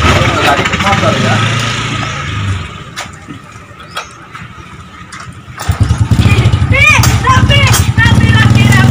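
A motorcycle engine running nearby, a rough rumbling drone that dips quieter midway then swells louder again, with voices talking over it toward the end.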